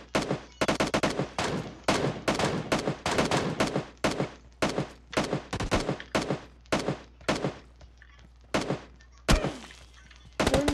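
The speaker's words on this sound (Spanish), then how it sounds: "¡Te está disparando!" Rapid automatic gunfire in the mobile battle-royale game PUBG Mobile: loud, dense bursts of shots crack out in quick succession, pausing briefly between volleys and continuing throughout.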